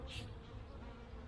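Honeybees buzz at a queen mating nuc hive, a steady close droning hum with a brief higher whine from one bee passing near, filling the short moment alone.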